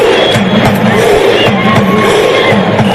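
Derby crowd claps in a rhythmic pattern of sharp repeated bursts over a loud, continuous stadium roar.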